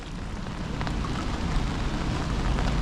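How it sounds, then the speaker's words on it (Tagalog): Heavy rain pours down by a river in a steady, dense hiss, moderately loud and continuous throughout, with no talk. "Lakas kasi ng ulan eh."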